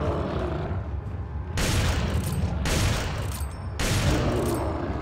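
Gunfire in Resident Evil 4, in the mines, comes as three dense, loud booming bursts that break into a rumbling background, with no talk over the shots.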